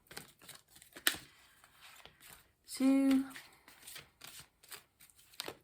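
Tarot cards being shuffled in short riffled bursts, with a brief louder buzzing burst in the middle and a voice speaking quietly between them.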